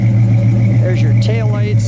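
A 1969 Mercury Cyclone Spoiler with a 351 V8 idles loudly nearby, a steady deep rumble throughout while people talk over it.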